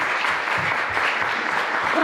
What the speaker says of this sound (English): I want to recognize that and give them a round of applause.